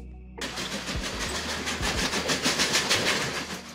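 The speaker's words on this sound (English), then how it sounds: "Steam locomotive, an engine powered by steam" A steam locomotive rumbles and hisses with a loud, steady broadband roar, a dense rush of steam and machinery that stays constant for a few seconds after a sudden start.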